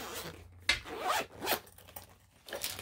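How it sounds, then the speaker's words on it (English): A zippered makeup brush case from a Sigma premium brush kit is unzipped close up, several quick rasping zipper pulls in bursts with short pauses between them. "So let me go ahead and unzip it."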